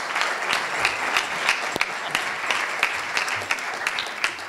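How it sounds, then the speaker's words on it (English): A conference audience applauds a speaker's introduction, with steady clapping and a few sharper individual claps standing out, fairly close and continuous throughout. "Can we have a round of applause for Jamie, please?"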